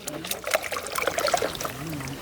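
Water poured from a glass onto a farm compost mix makes a short, close trickle and splash, with voices talking over it.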